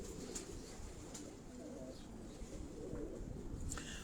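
Pigeons at a keeper's home coo softly in low, rolling murmurs that repeat through the moment, under a steady background hum with a few faint chirps.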